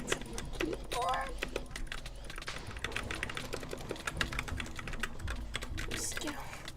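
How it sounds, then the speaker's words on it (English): A cat steps across computer keyboard keys, giving irregular close clicking and tapping over several seconds, with a voice speaking briefly among the clatter. "My cat's on the keyboard."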